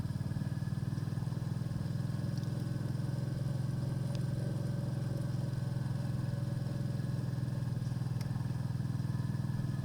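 A motorcycle rides along a country road in Barbondale, heading from High Casterton toward Dent, its engine a steady, unbroken low drone with faint clatter that stays loud and close throughout.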